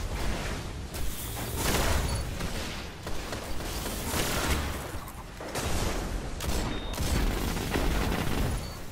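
Shotgun fire in the video game Destiny, heavy booming blasts in a loud, dense stream of gunfire and explosions, with no voices.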